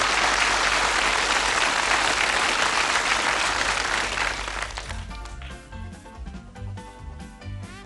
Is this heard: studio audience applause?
yes